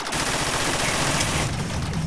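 Cannons fire in a horror video game as a dense, rapid barrage of loud blasts. The barrage runs without a break and drowns out everything else.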